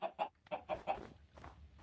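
Chickens on a Minecraft chicken farm give a quick run of short, clipped clucks, about half a dozen in under two seconds, faint and close with no talking.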